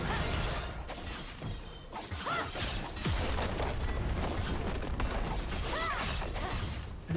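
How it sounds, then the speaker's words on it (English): A turret destroyed in League of Legends, crunching, shattering explosion bursts and whooshing ability sounds layered over busy game combat, fairly quiet overall with no talk. "Blue team's turret has been destroyed."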